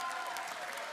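A brief burst of steady applause from a crowd, dense clapping heard up close.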